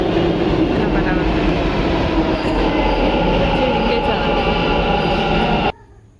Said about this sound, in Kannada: ನಾನಂತೂ ಫಸ್ಟ್ ಟೈಮ್ ಹೋಗ್ತಾ ಇದ್ದೀನಿ ಮೆಟ್ರೋದಲ್ಲಿ